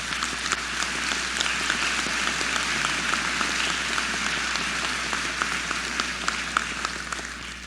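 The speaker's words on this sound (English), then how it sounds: "Let's take a moment to applaud all your supporters." Convocation audience applauding for graduates' supporters at a spring university ceremony, a steady dense wash of clapping that holds at an even level throughout without pause.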